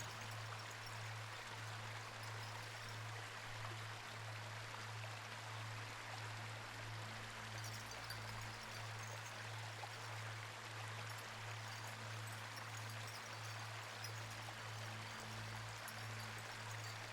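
Spring water flows over a stream bed in a steady, unbroken wash, with a low constant hum underneath and no voices.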